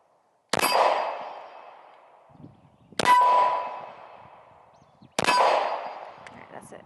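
Three sharp shots from a Ruger RXM handgun, each followed by a bright ringing clang of a steel target that decays over a second or two, spaced about two and a half seconds apart outdoors.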